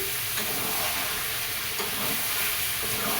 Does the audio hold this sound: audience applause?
no